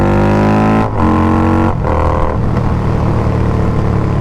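A motorcycle running a Dirty Bird Racing exhaust, in place of its former Hacker Mayhem, is blipped up and down through a couple of quick revs, then settles into a rough, rumbling idle, loud and close with no talk.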